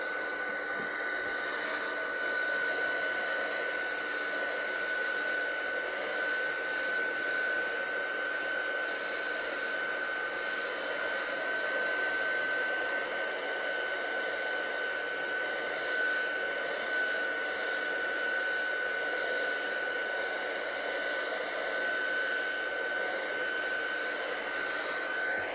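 A heat tool runs continuously while warming stamping foam for card making, producing a steady whooshing blow with a thin high whine, close by and unchanging for the whole stretch.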